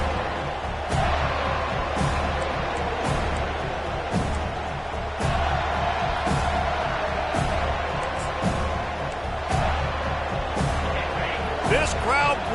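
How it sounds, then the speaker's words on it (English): Basketball arena crowd roaring and chattering steadily through a timeout, with sharp slams and ball bounces punctuating the dense, continuous noise; no clear speech stands out. "This crowd bringing the energy and noise early."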